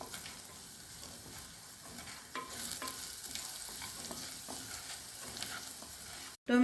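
A spoon stirs turmeric and asafoetida in a frying pan, soft sizzling underneath quiet scraping and tapping against the pan, ending with a brief clatter.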